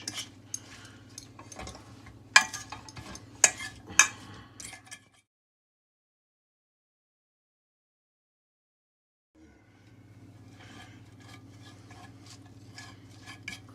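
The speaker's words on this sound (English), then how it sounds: "Crushing the garlic." Garlic being crushed onto potato wedges in a kitchen, heard as a scatter of clinking, tapping utensil hits over a low steady hum, then a stretch of silence before the hum returns with lighter taps.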